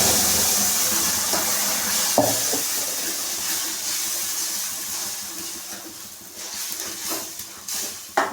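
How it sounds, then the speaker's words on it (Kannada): Onions and masala fry in a pan for an egg keema sambar, giving off a continuous loud sizzle and hiss with a few brief clatters and stirring bumps, with no talking. "ಈರುಳ್ಳಿ ಫ್ರೈ ಆಗ್ತಿದ್ದಂಗೆ ನಾವು ಇವಾಗ ಮಸಾಲೆನ ಹಾಕೋತಾ ಇದ್ದೀನಿ."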